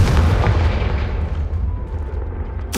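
A Confringo blasting spell detonates in the Hogwarts Legacy video game, a loud booming explosion with a deep rumble that decays over a few seconds, followed by a sharp burst at the end.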